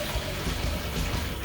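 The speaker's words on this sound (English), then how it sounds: "this is just to test the cold water" Cold water sprays steadily from the nozzle of a Neo 360 Luxe bidet, a continuous close hiss and gush that stays even for the whole brief moment.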